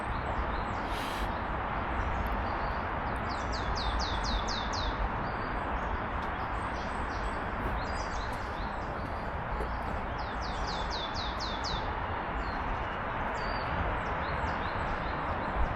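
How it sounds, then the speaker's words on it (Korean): Small birds chirp outdoors in nature, with short rapid trills in a few bursts, faint and high above a loud, constant rushing background noise. "계속 지금 새들 소리가 나는데"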